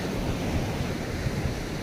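Surf washing onto an Arabian Sea beach, a steady, dense rush of breaking water with wind noise over it and no voices.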